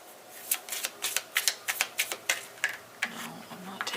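Tarot cards are shuffled by hand in a series of quick, crisp riffling bursts, close and fairly faint, with a quiet room behind them.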